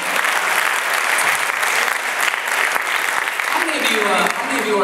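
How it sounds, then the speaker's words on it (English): An audience at a political forum in a theater claps loudly and steadily, a thick wash of many hands at close range, with a few voices murmuring beneath the applause. "Let's give a big round of applause to Solar Oregon and AESP for hosting the event."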